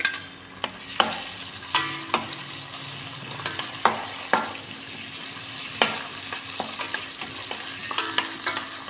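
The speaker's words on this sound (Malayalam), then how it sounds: "ജിഞ്ചർ ഗാർലിക് പേസ്റ്റ് ഇട്ട് വഴറ്റുക" Ginger-garlic paste sautéing in a pan for a vegetable kurma: a constant close sizzle, broken by irregular sharp scrapes and clicks of a spatula stirring against the pan.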